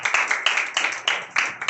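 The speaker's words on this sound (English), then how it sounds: "So, can we give a big round of applause to Sister Neda first?" Applause from a church congregation, a short burst of dense hand claps with repeated swells, fairly loud and close with no talking.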